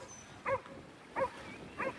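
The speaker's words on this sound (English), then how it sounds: "Check out these dogs." A dog at a beach on the Mornington Peninsula gives three spaced, fairly faint barks against quiet outdoor ambience.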